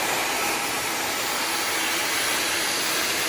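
A Dyson Supersonic hair dryer runs steadily at close range, a loud, even, airy rush with no pauses.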